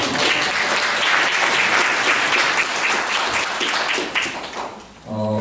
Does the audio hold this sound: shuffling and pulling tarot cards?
no